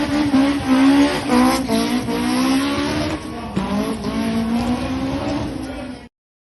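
Cars doing donuts late at night in a Funchal, Madeira neighbourhood, with loud sustained tire squeal and revving engines rising and falling continuously for about six seconds, no talking.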